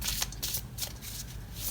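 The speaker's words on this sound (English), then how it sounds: "I'm just gonna shuffle on camera to give you that one extra" Deck of tarot cards shuffled by hand, a run of quick riffling bursts close to the microphone, soft and rhythmic, with no talking.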